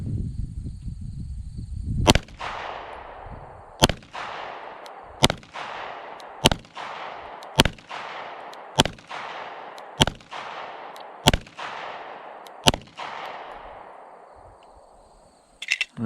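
An EAA Girsan 1911 pistol firing factory ammunition outdoors, about nine sharp, loud reports spaced roughly a second apart, each followed by a long fading echo, with brief faint noise before the first shot and at the end.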